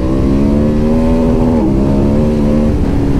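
KTM 1290 Super Adventure S motorcycle from 2023 revving hard in second gear, a loud, continuous engine roar with a steady high note that holds for the whole span, slightly dipping midway, with no talk.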